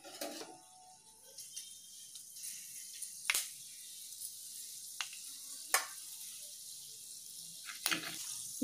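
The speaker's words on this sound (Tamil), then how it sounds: "அதில் வந்து வெந்தயத்தை நம்ம தாளிச்சிக்கலாம்." Fenugreek seeds tempering in hot oil, a faint continuous sizzle broken by scattered sharp crackles and pops, close and quiet with no speech.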